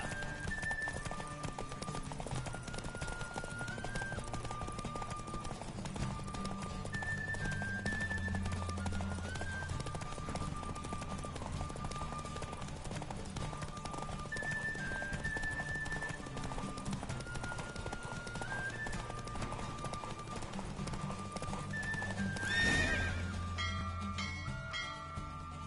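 Horse hooves gallop in a steady clip-clop rhythm in the video game Witcher 3, with faint game music under it and a brief neigh or swell near the end.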